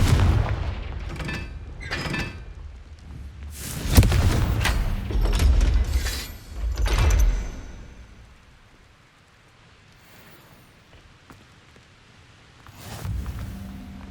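Confringo blasting spells in Hogwarts Legacy go off as heavy booming explosions, several loud bursts in quick succession with rumbling debris, then fading to a low quiet before another blast at the end.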